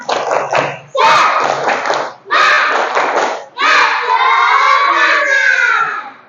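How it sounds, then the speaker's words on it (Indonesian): Children in a classroom loudly chant and clap the tepuk semangat cheer, several close bursts of shouted voices and claps in quick rhythm, ending in a longer sustained group shout. "Sekali lagi tepuk semangat."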